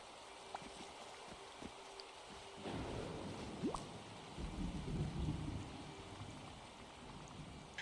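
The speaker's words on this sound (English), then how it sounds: "rain doesn't seem too bad" Steady rain falls in the video game Disney Dreamlight Valley, a soft continuous hiss with a low rumbling swell in the middle, fairly quiet and with no talk over it.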